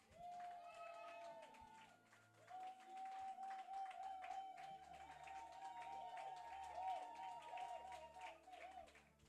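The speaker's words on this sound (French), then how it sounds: "voudrais juste qu'on puisse applaudir pour nos mères aujourd'hui" A church congregation at a Mother's Day service claps steadily for the mothers, a dense, continuous patter of many hands under sustained musical tones and voices.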